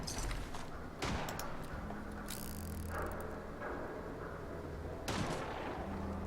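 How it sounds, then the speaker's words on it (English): Scattered gunshots in Fallout 4 with raiders attacking Goodneighbor: a few sharp, fairly faint cracks spaced a second or more apart over a low ambient background. "Someone's firing."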